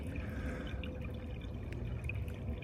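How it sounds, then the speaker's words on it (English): Spring water trickling down into the earth on a hiking trail, a faint, steady pouring and dripping murmur with occasional small splashes, heard alone without any voices. "You can just hear the water trickling down into earth"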